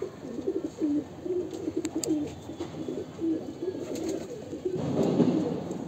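Heavy pigeons coo in a steady series of low, throaty calls close by, with a brief rise in rustling and noise near the end and no voices.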